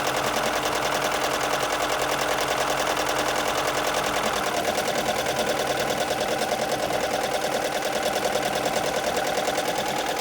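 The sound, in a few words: embroidery machine stitching out a design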